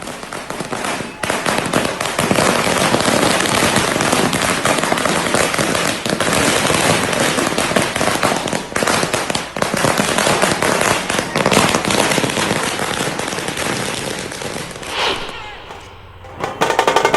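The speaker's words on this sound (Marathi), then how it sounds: "फटाक्यांची आतषबाजी करत, गोडधोड वाटत देशाच्या वतीनं या ठिकाणी घोषणाबाजी करण्यात आलेली आहे." Strings of firecrackers crackle and pop nonstop at a street celebration in Mumbai, loud dense bursts rattling like gunfire for many seconds before briefly thinning and then resuming.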